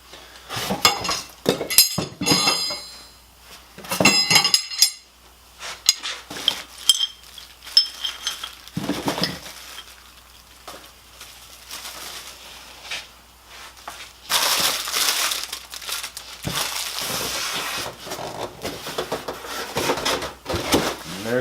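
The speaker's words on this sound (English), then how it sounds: "Unboxing the Evolution Rage3-DB sliding compound multi-purpose miter saw." Unboxing an Evolution Rage3-DB sliding compound miter saw: bursts of cardboard and packaging crunching, clunks and rattling parts, then a long stretch of rustling plastic wrap, loud and close with pauses between.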